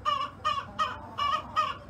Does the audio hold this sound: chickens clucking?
yes